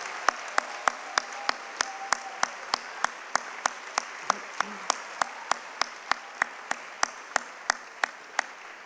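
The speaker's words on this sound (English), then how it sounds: "I think the children need and deserve a fantastic round of applause" Audience applause for children at a primary school multicultural event, a steady wash of clapping with sharp, evenly spaced single claps standing out in a regular rhythm throughout.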